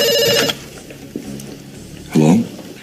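A telephone ringing indoors in a drama scene, a short electronic ring at the start, then background clatter and a second ring burst near the end.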